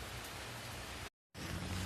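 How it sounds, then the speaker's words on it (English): Steady heavy rain pours down during Hurricane Harvey, a dense unbroken hiss close by that cuts out briefly before resuming. "Rain is still coming down. Not as hard as it was,"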